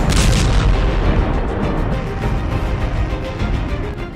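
Missile strike explosions on Israel, a loud booming blast up front followed by a dense, rumbling roar and crackling that lingers and slowly settles.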